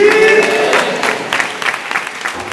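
Church congregation clapping together at a Pentecostal anniversary convention prayer hall, a dense, steady burst of applause with crowd noise, fairly loud throughout.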